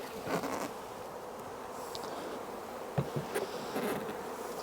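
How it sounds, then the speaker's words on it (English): Bees buzz around a hive feeder at the Norfolk Honey Co. apiary, a steady close drone with a few individual insects passing louder near the microphone. "the bees will come up and clean the rest of the feeder out"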